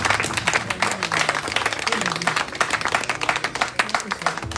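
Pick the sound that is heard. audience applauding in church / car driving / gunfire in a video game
audience applauding in church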